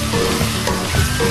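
Spices with mushroom stock powder, chicken bouillon and sugar fry loudly in a pan, giving a continuous close sizzle while a utensil scrapes and stirs in uneven strokes.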